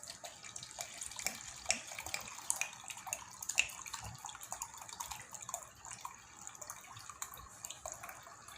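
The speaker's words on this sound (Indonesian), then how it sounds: "ini cuka saya tuang 500 dulu, 500 cc" Vinegar, 500 cc, pours into soy milk for homemade tofu, a continuous close trickle with small splashy spikes and drips running steadily throughout.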